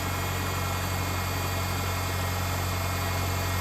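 A Ford Ranger engine idles after its fuel injectors were replaced, a steady, loud, close rumble with an even low hum and no talking.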